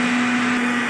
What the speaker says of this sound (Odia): ଗ୍ରାଇଣ୍ଡର ଚଲାଉଛନ୍ତି ଦେଖିବ ଆଉ କ'ଣ ବଟା ହେଉଛି